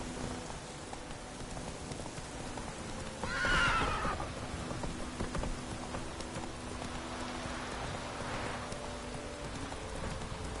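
Roach, Geralt's horse in The Witcher 3: Wild Hunt, lets out a loud whinny around the middle, with a fainter second neigh later, over steady rain and soft hoof clip-clops.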